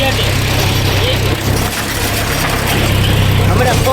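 A tractor engine runs steadily while ploughing a field with a blade attachment, giving a continuous low, throbbing drone that stays loud and close throughout, with voices over it.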